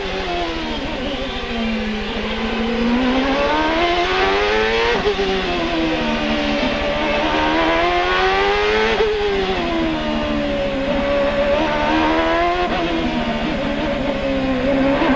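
A Honda CART race car at the 1999 Long Beach Grand Prix screams at high revs, then brakes hard and downshifts through a sequential gearbox, each shift dropping the pitch before the engine climbs again, loud and continuous onboard.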